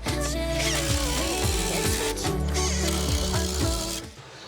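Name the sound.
power drill drilling pocket holes in reclaimed wood trim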